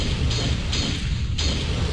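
Gunfire from the PlayStation game Dino Crisis 2, a dense run of booming shots repeating steadily through the clip with no gaps, loud and close.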